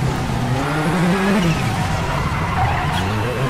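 In the WRC 8 game, a rally car brakes hard for a hairpin and skids with a loud, continuous tire squeal over a droning engine whose pitch wavers as it slows.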